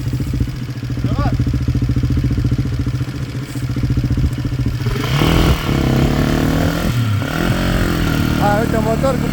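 KTM 400 motorcycle engine idling with a steady low rumble, then revving hard around the five-second mark and continuing to rev with rising and falling pitch. Close and loud, with people talking nearby.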